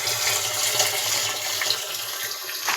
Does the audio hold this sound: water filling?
yes